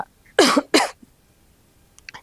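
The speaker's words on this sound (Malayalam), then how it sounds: "എനിക്കുണ്ട് ചെറിയ ചുമയും ജലദോഷവും ഒക്കെ" Two harsh, close coughs in quick succession from a person with a cold, followed by quiet and a few faint short sounds.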